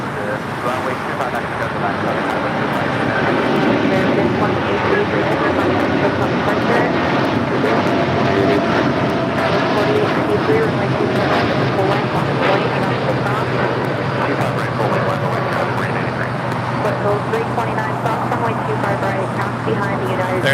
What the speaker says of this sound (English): There in the distance was All Nippon Airways, the Dreamliner. Coming in from Tokyo Haneda, flight 126.